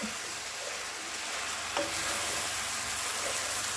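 Steady sizzling from sauce in a hot frying pan with a spoon scraping and stirring through it, close and continuous, no voices.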